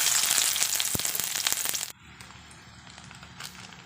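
Chopped onion, ginger and garlic fry in a pan for an egg Maggi roll, giving a loud, crackling sizzle that stops abruptly partway through, leaving a quiet background.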